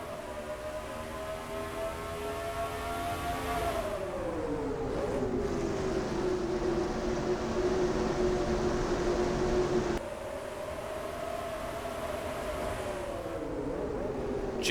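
Engines of NASCAR race cars in NASCAR Racing 2003 at Road America drone steadily and then rise in pitch as the pack accelerates, a sustained dense whine that drops and climbs again as gears shift.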